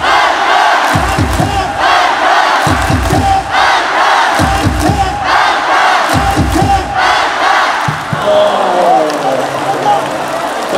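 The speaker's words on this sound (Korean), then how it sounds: "박수 한번 시작! 박수 두번 시작! 박수 세 번 시작!" Hanwha Eagles fans at a baseball game against Doosan clap in rhythm during a ninth-inning rally: loud, packed crowd noise with repeated bursts of chanting and clapping, then a brief lull before the crowd swells again.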